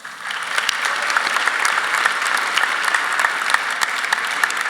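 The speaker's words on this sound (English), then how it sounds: "show your gratitude and appreciation to your parents with a huge round of applause" Graduating seniors at a high school commencement give their parents a big round of applause. Dense, even clapping from a large crowd holds steady for several seconds.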